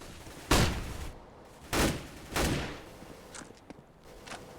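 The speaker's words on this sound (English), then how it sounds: "Throwing flashbang. Deploying flashbang." In the video game Filament, flashbang grenades go off as a few sharp, close bangs spaced about a second apart, each trailing off quickly, followed by fainter clicks and thumps.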